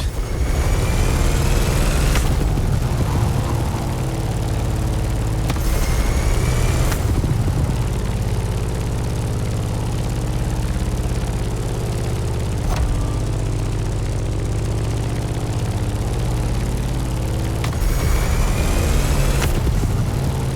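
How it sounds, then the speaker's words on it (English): Steady, loud drone of a Grumman F8F Bearcat's piston engine and propeller heard from the cockpit in flight, a constant low roar with slight shifts in pitch and no voices. "In the cockpit of a stunning Grumman F8F Bearcat, or simply the Bear."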